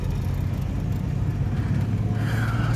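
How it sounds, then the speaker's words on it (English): A vehicle engine rumbles steadily close by at a four-way stop on a storm-damaged coastal road after Hurricane Irma, a low continuous drone with a faint higher whine near the end. "Hopefully that truck stops."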